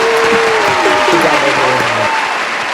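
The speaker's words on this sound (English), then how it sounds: "let's just give a round of applause to all of our contestants today" An audience at a campus Masked Singer show claps for the contestants, dense steady applause with some cheering and voices mixed in, loud and close, thinning out near the end.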